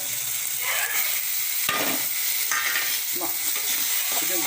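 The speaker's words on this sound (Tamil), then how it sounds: "இப்போ நல்லா வதங்கி வருது" Dried anchovies (nethili karuvadu) sautéing in a pan, a steady close sizzle with scraping stir strokes around halfway through and near the end, no voices.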